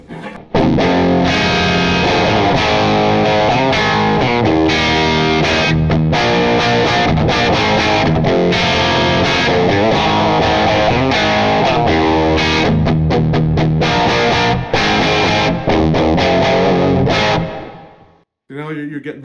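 Electric guitar played through a handwired JTM45 amp with the super lead bright cap mod, loud driven chords and riffs with a crunchy, bright edge, ringing continuously before cutting off near the end.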